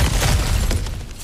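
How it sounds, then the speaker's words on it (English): Something breakable smashed apart in God of War Ragnarok, a loud burst of shattering and crunching debris that rings out briefly and then tails off over about a second. "back to smashing through things for fun and profit"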